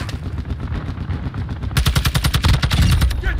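Enemy gunfire in the video game DMZ: rapid automatic bursts start halfway through and crackle steadily over a low rumbling background.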